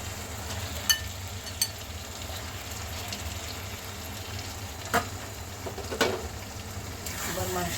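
Beef drops into a pan of frying almond masala for a badami korma, raising a steady sizzle under a few sharp clinks and splatters.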